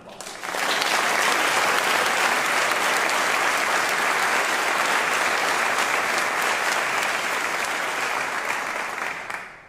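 Audience applause during a mayor's State of the City address, a dense, sustained roar of many hands clapping that swells in quickly and holds steady for several seconds before tapering at the end.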